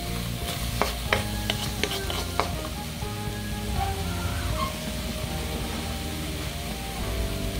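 A chili pepper drops into a hot pan of sizzling oil while macaroni and cheese is cooked. A steady loud frying hiss runs throughout, with a few sharp clinks and stirring scrapes near the start.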